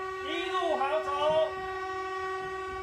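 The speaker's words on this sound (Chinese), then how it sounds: "其他列次鸣笛5秒" Taiwan Railways train horns sound in mourning after a rail accident: a steady sustained horn tone runs throughout, with people talking over it briefly in the first half.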